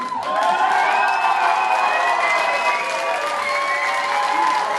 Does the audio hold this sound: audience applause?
yes